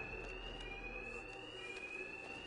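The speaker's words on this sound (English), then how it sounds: "Two-Face's thugs won't hear me over the alarm." Steady electronic alarm ringing in Batman Arkham Knight, a continuous high tone with faint pulsing, loud and unbroken throughout, no voices over it.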